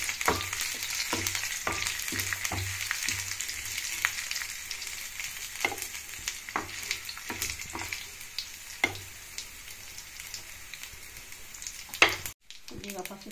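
Mustard seeds, cumin, curry leaves and urad dal sizzle in hot oil for a tomato pickle tempering, a steady bright crackle with frequent spoon scrapes and pops, ending in a brief drop to near silence.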